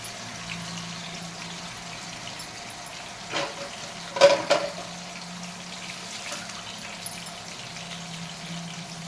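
Green chili and coriander paste frying in oil for a brinjal tomato curry, a low steady sizzle with a few brief louder spatters and clatters midway, no voices.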